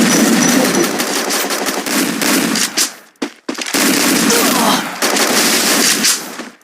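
Rapid sustained automatic gunfire from the Free Fire mobile battle royale game, loud and dense with a brief pause midway before the shooting resumes, with a voice speaking underneath.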